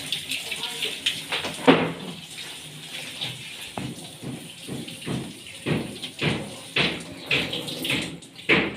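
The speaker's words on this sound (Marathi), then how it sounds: "सगळ्यात आधी आपण ही वांगी छान पाण्याने धुवून घ्यायची" White brinjals (the kind called keli vangi) are washed in water, giving irregular splashes and sloshing bursts at close range, with a voice heard alongside.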